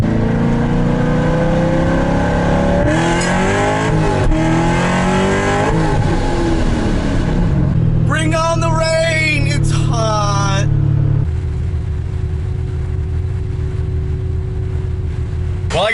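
A car moves through congested city traffic, its engine humming and rising in pitch as it accelerates and shifts, loud and close, with a voice talking over it.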